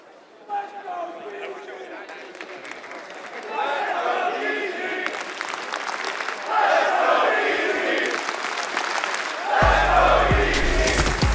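Esports arena crowd at the Atlanta Major quarterfinals, DarkZero Esports vs. LOS, roars with sustained cheering that swells louder partway through and stays dense to the end, mixed with commentators talking.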